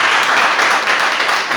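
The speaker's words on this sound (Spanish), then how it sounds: "Denle un fuerte aplauso" Dense, steady applause from a church congregation fills the space, a continuous loud wash of many hands clapping together without pause.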